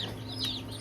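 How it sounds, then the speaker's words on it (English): Young Freedom Ranger broiler chicks in a brooder give soft clucks and peeps over a steady low hum, near and moderately loud, with no one talking. "so that's 42 chickens that we're raising right now"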